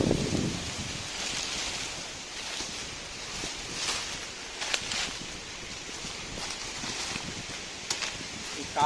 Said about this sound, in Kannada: ಗಾಳಿ ಎಷ್ಟ ಉಂಟು.